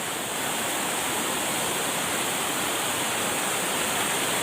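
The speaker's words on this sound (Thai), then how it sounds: "เสียงน้ำดังมากครับ" Loud, steady rushing water at night beside a fishing spot where catfish are caught on lines, a constant broadband roar filling the scene with no voices.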